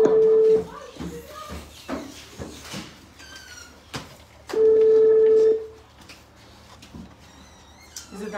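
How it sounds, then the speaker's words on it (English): A phone call's ringback tone sounds as two steady beeps, one at the start and one midway, with people talking around them and some clatter. "Is it ringing at all? Yeah. Is it ringing?"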